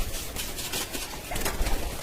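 Pigeons in a loft give soft, intermittent coos over a hissy, noisy background, with no voices heard.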